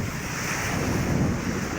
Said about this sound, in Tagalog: Habagat, lakas pa ng hangin.